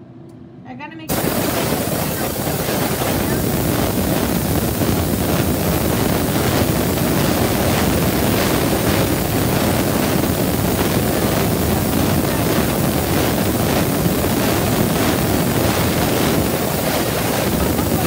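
Steady broadband whoosh of an electric fan running behind the camera in a painting workspace, starting abruptly after a brief quiet moment and continuing loud and unbroken throughout.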